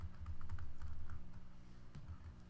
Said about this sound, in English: then you can start typing